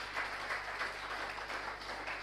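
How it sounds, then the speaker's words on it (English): An audience at a sports entrepreneurship talk claps in a short burst of steady, moderately faint applause. "Please let me give a round of applause for Mr. Babak first."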